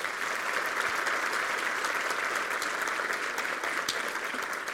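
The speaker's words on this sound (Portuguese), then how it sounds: "Vamos receber o pastor aqui com uma salva de palmas" A church congregation at a Brazilian Portuguese-language service applauds to welcome the pastor, a steady, dense wash of many hands clapping that holds evenly for nearly five seconds, fairly distant and without speech.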